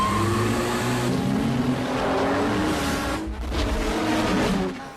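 Race cars speeding in a Fast and Furious movie scene: loud, continuous roaring engines with rising and shifting revs, layered with a dense, mixed film soundtrack throughout.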